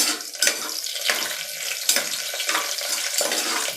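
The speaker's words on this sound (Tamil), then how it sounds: "இப்போ எண்ணெய் நல்லா காஞ்சதும் சீரகமையும் மிளகையும் போட்டுக்கலாம்." Cumin seeds and black pepper sizzle in hot oil and ghee for a Tamil ven pongal breakfast, a close, steady crackling hiss broken by repeated sharp spattering pops.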